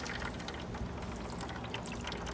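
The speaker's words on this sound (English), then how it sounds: "So I'm gonna hit it with some more au jus." Au jus is poured over a beef shoulder roast as it smokes, giving a steady, even wash of splashing and trickling liquid throughout.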